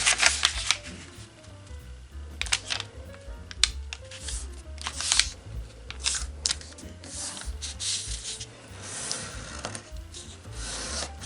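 Sheets of origami paper being folded and creased, a run of crisp rustles and sharp swipes in irregular bursts, close and fairly quiet, with no talking.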